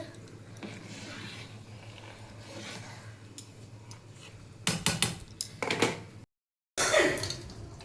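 A lid clatters down onto a home cooking pot of cucumber simmering without extra water, a burst of metallic rattles and knocks over a steady low stove hum, followed by a short gap of silence.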